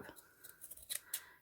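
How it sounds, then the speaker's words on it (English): Scissors snip through a looped strip of tulle while a hair bow is being made, several quick close cuts in a short burst with faint breathy sounds between. "take your scissors through the whole loop"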